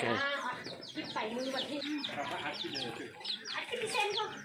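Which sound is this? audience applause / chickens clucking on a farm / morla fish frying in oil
chickens clucking on a farm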